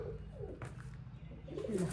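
A soft, low pigeon coo rises near the end over quiet background noise, faint and close.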